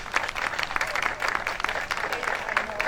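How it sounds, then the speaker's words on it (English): An outdoor audience claps steadily throughout, a dense and fairly close patter honoring a community coalition at a Juneteenth event in Hyde Park. "a round of applause for their efforts"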